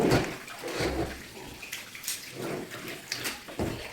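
Water sloshes and splashes across a floor during cleaning, with several loud gushes and bursts spaced through a steady trickle, fairly close.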